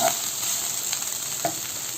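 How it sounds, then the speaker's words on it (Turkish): Steady, close sizzling of salted potatoes frying in hot oil, a constant crackle with a couple of faint clinks. "tuzlayıp öyle kızartmaya aldım"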